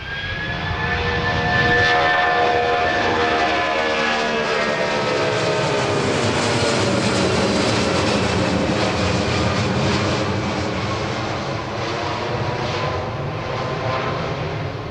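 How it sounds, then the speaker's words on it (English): Boeing 737-800 engines in a flight simulator during an aborted landing, a loud sustained jet roar with rising whining tones that swell early and hold steady for the whole stretch. "It's an aborted landing."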